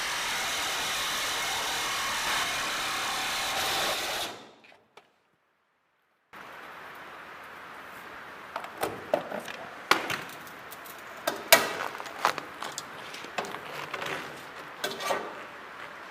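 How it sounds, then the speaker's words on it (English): A Milwaukee Sawzall fitted with a carbide-tipped blade cuts through metal stock for a cattle squeeze chute, giving a loud, steady buzzing rasp for about four seconds. It stops abruptly into silence, followed by scattered metallic clanks and knocks. "using a carbide tip torch, Milwaukee Sawzall blade, and that works really good, cutting through metal"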